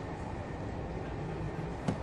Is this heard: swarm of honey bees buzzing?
no